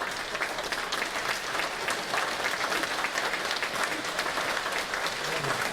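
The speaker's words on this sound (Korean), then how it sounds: "우리 한번 박수 한번 해주시고" An audience at a Korean patriotic prayer gathering honoring war veterans gives a sustained burst of clapping, dense and steady throughout.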